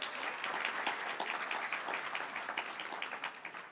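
An audience applauds at a LeVar Burton event at the Wilmington Public Library in Wilmington, Delaware, a crowd of many hands clapping steadily and fairly faintly throughout, with no one speaking.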